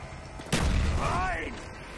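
A grenade going off in Call of Duty Zombies on the Moon map: one sudden, heavy, close blast that rumbles and decays over about a second, with a voice talking faintly underneath.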